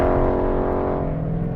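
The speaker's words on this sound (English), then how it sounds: "That is a proper Detroit V8 muscle car rumble." Ford Mustang V8 muscle car engine giving a deep, steady bassy rumble up close, loud and continuous with no talking.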